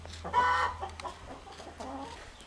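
Chickens cluck in a village where they eat peeled oranges, a close burst of clucking followed by softer scattered clucks over a steady low hum, no talk.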